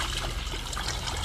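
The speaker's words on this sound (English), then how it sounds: "Pour some vinegar into a pitcher." Vinegar pours into a pitcher as a faint, steady trickle of liquid lasting just over a second, with no voices.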